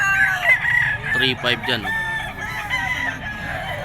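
Bulik gamefowl with yellow legs at a Bocaue, Bulacan market, crowing and clucking up close among other birds. Someone talks briefly near the end.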